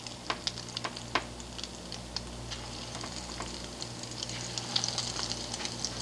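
Steady sizzling of parboiled broccoli florets frying in hot oil, with scattered crackles and pops over a constant hiss.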